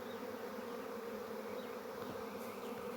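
A large honeybee swarm arriving in the evening near a bait trap by an orchard: a dense, steady buzzing drone of many bees, faint and even, with no voices.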